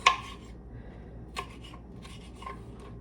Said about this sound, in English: Serrating this tomato real quick.